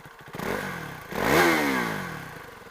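A KTM Duke 390 single-cylinder engine blips once, then revs up hard in a rising, rasping howl that peaks and winds back down, loud and close with no speech.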